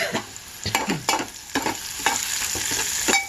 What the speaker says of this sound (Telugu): చూడండి, అన్నీ వేగుతున్నాయి.